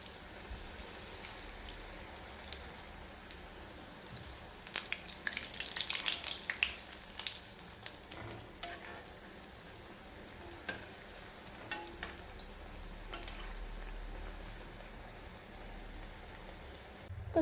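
Rava vada frying in hot oil, a continuous close sizzle and bubbling crackle with brief stirring or splashing bursts, steady throughout with no talk.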